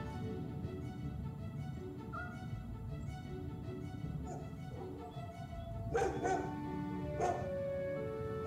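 A dog at a doggy daycare gives a couple of short barks and yips near the end, heard over a steady background of music and ambient noise.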